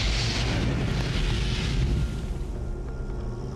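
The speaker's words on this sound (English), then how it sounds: "A spark suddenly ignites the escaping gas, and an explosion rips through the rig." A gas explosion on an offshore oil rig, ignited by a spark in escaping gas: a deep, loud, rumbling roar that fills the clip and slowly fades without any distinct blasts.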